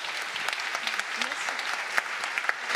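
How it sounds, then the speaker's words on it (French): Applause for an award winner at a cybersecurity women's trophy ceremony, a dense crowd clapping steadily with a few sharper claps standing out and faint talk underneath. "Bravo, vous pouvez l'applaudir."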